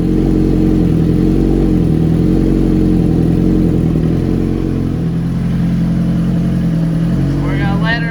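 Suzuki GSX-R1000 motorcycle engine idling steadily during a coolant flush, a loud, close, continuous low rumble with even pulsing throughout.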